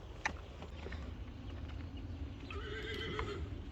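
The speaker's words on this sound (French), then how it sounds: "Il y a des chevaux qui glissent." A horse whinnies with a high, wavering neigh, joined by scattered hoof clatters and scrapes as horses slip, against faint outdoor background noise.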